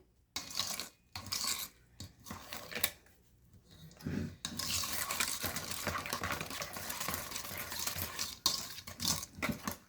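Peanut butter pie filling being stirred and combined in a bowl, with bursts of scraping and clinking utensil noise broken by brief pauses, fairly close and moderately loud.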